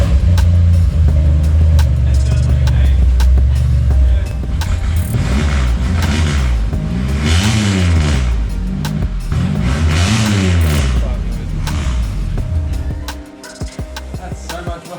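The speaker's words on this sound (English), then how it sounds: "So we got twice the Commodore noises now." A Holden Commodore with an LS engine and twin-pipe exhaust revs hard, its deep burble rising and falling in repeated loud sweeps before the note cuts off near the end.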